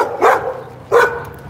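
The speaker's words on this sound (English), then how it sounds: "Dogs are not into me right now" Dogs barking outdoors at dusk on a street in Mexico, two separate loud barks about three-quarters of a second apart, fairly close, with no talk over them.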